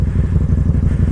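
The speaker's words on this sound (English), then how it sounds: "I'm about to do a flyby out here on the Super Duke" A KTM Super Duke motorcycle engine rumbles loud and close, a steady low pulsing throb with no pause.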